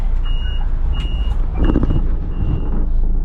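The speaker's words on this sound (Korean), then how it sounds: "좋은 버스네. 정확히 7시 50분에 출발." A bus pulls away on a scheduled departure in Hualien, Taiwan, with repeated high beeps over a heavy engine rumble and a hiss of air brakes.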